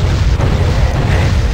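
A Bloodscourge weapon shot explodes in the Hexen video game, a loud, dense rumbling boom filling the whole moment without pause.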